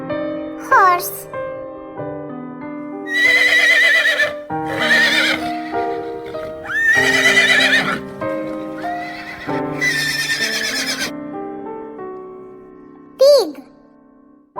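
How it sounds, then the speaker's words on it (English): A horse gives repeated loud neighs and whinnies over upbeat children's music, ending with a sharp squealing whinny. "Horse."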